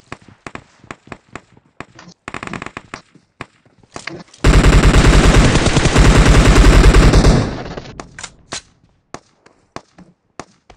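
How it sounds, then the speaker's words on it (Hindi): Gunfire from an M416 rifle fired by a bot in the video game PUBG: scattered single cracks and short bursts, then a long, loud sustained automatic volley lasting about three seconds, followed by more sparse shots. "ये बॉट फायर दे रहा है।"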